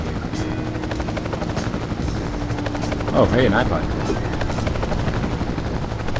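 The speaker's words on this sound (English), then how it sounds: "the helicopter won't stop following me" A helicopter from the video game Marc Ecko's Getting Up gives off a steady rotor drone in the game soundtrack, with someone talking over it and a brief tonal game sound partway through.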